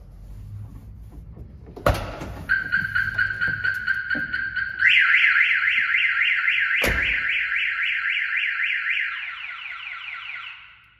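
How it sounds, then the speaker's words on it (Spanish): Viper alarm on a pickup truck set off by its shock sensor: two sharp knocks, then a loud steady electronic tone that turns into a fast warbling chirp, cycling on for several seconds before it stops. "se dispara la alarma."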